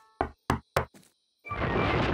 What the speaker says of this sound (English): Let's knock three times.